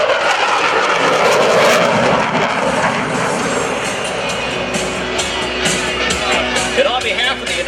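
An F/A-18C Hornet jet roars in on its final break to land at an Air National Guard open house airshow in Rhode Island, a loud, sustained broadband engine rush with a crowd and public-address talk underneath.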